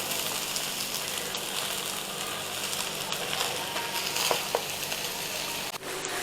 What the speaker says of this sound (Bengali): এখন রাইসের সাথে আমরা সবজিটা মিক্স করে ফেলছি।